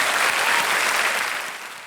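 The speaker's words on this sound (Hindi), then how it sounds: "तालियां बज जाएं उनके लिए इस बात पे।" A studio audience on a quiz show applauds a record-setting women's cricket bowler, with a dense wash of clapping that is strong at first and then fades over the final second.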